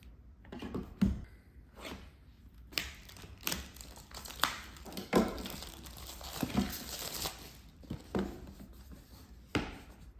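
Packaging of a Xiaomi Mijia cordless rechargeable screwdriver is opened, with close crinkling, rustling and tearing of plastic and cardboard plus occasional taps and clicks in irregular bursts, no talking.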